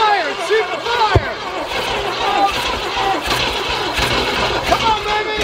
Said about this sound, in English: Crank it. Crank it.